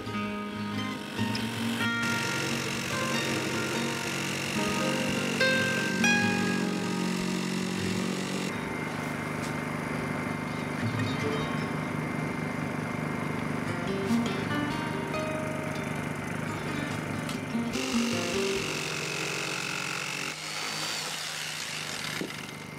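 A cheap yard-sale jigsaw cuts through wood for a makeshift outhouse build, a continuous buzzing, rattling motor drone with shifting pitch as the blade works, moderately loud and without speech.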